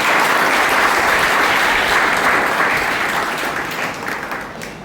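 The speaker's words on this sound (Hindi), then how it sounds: "मुझे मालूम है कि आप ताली बजाने में बहुत माहिर हैं" A crowd at a Mother's Day special programme claps together in loud, continuous applause that holds steady and then eases slightly toward the end, with no talking.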